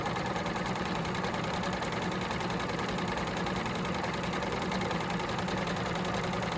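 A sewing machine runs a straight gathered stitch along pillowcase trim, a continuous, even mechanical whir and rapid needle rattle that stays steady throughout.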